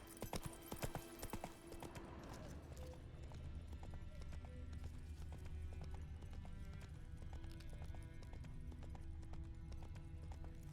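Horse hooves clip-clop in a steady, brisk rhythm under a rider, close and fairly loud throughout, with a faint whinny-like sound and low background rumble.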